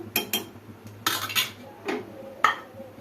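A metal spoon scrapes and clinks against a pot of paruppu sadam (lentil rice) in several quick, uneven bursts, close and fairly quiet, with no talking.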